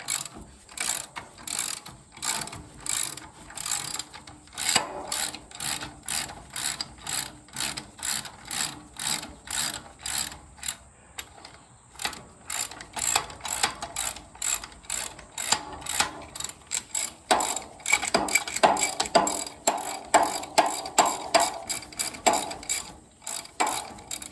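A hand ratchet loosens bolts on a Jaguar independent front suspension, including caliper and steering-arm bolts. It gives a steady run of quick, close pawl clicks in repeated bursts throughout, with no talking.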